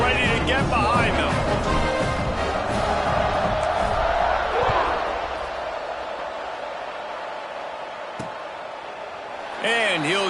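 At a college football game, a large stadium crowd roars in a broad, sustained wash of noise that slowly fades. A commentator's voice runs over the top, and the crowd swells again near the end.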